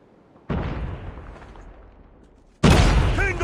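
Two heavy booms from frag grenades in a team-based shooter game, each hitting suddenly and rolling off into a long decaying rumble, the second louder and closer with bright debris; no voices.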